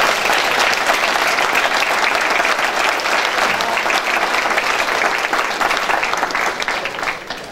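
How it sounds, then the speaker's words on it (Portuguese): Loud, continuous applause from a crowd at a Festa do Espirito Santo gathering at a private home in California, dense clapping that holds steady and eases slightly near the end. "Uma salva de palmas."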